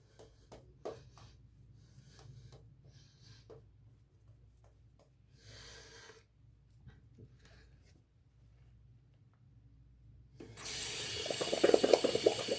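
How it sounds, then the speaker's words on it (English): Soapy hands are rinsed under running water after a shave. Quiet clicks and small handling noises come first, then a loud, close rush of water starts near the end and continues. "Rinse off the hands, get all the extra soap off"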